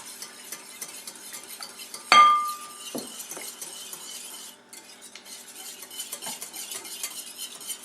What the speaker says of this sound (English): Then you add 1 cup of milk. Whisk that in as well.